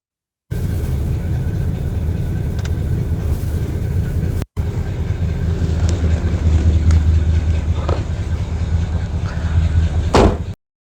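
1968 Dodge Charger barn find, off the road for 16 years, idling and warming up: a loud steady low engine rumble heard close, briefly cut off once, then continuing with a rougher, heavier note.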